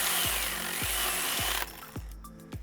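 A STIHL GTA26 battery mini chainsaw bites into a large piece of wood, its cutting strokes pulsing in a steady rhythm close by before the motor cuts out and the sound drops to quieter handling.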